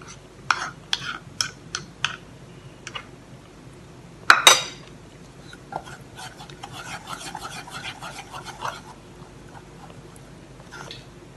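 Banana cake batter being mixed in a bowl, with sharp clinks of a utensil against the bowl, then a louder clatter, followed by softer scraping and stirring strokes.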